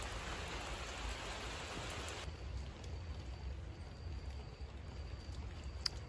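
Light rain during a spring thunderstorm, a faint, steady hiss of falling drops that grows slightly softer partway through, with no voices.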